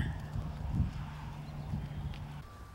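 A horse trots forward in a riding arena, its hooves producing soft, faint, rhythmic clip-clop beats under a low steady hum, with no talk.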